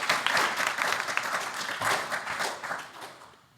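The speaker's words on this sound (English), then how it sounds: "Can we clap for people making questions?" A panel audience at a podcast convention session claps for people asking questions, a brief, moderately loud round of applause that rolls on for a few seconds and then tapers off.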